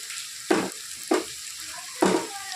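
Mutton pieces frying in a pan of browned onions, with three short bursts of sizzling as the meat is stirred or dropped in, each flaring loud then settling back over a quiet steady hiss.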